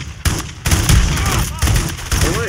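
Loud bursts of automatic gunfire in Call of Duty: MW3, on the Highrise mission, aimed at the player: several rapid volleys close by with short gaps between them.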